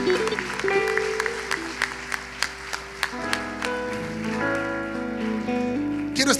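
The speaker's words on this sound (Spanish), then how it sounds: "Dele palmas fuerte al Señor, hermano." A church congregation claps loudly and rhythmically for the Lord, sharp regular beats over sustained music and voices throughout.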